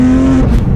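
A 2019 Porsche GT3 RS engine and exhaust, loud and close, with a steady held tone that then breaks into rougher, rumbling revs.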